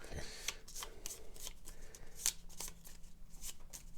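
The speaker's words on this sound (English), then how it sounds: "we need to shuffle up this deck over here" A deck of cards for the Gloomhaven board game being shuffled at a table: a string of quick, crisp riffling snaps and light slaps, close and fairly quiet, repeating irregularly over about four seconds.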